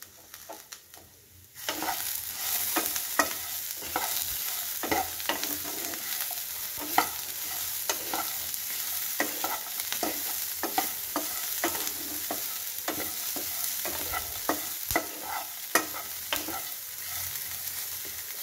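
Vegetables for mixed rice fry in a pan with chili and cumin powder while a spoon steadily stirs them, a constant close sizzle with repeated scraping clicks and no talking.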